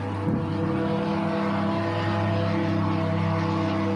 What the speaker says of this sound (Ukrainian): Літаки в цей час не літають, бо небо зайняте ними невідомими безпілотниками